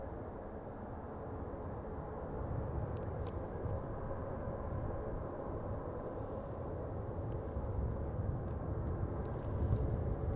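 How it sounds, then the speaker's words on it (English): An Icelandair Boeing 737 MAX 8 comes in to land at Manchester Airport, a distant, steady jet rumble that grows slightly louder toward the end. "just coming into land is an Icelandair. It's a Boeing 737 MAX 8 from Reykjavik."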